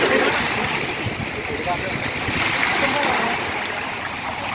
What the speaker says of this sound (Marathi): जोराच्या पाण्याच्या लाटा येत आहे.